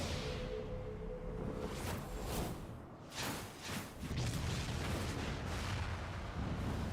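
Cannon fire in Final Fantasy XIV, a series of deep booming blasts and whooshing bursts with rumbling low end, loud and repeated over several seconds with a short lull midway.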